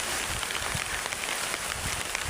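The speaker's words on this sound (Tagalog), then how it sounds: "Tingnan mo, pinakalakas yung ulan." Heavy rain pours down in a dense, continuous hiss with scattered patters, steady and fairly close, with no voices.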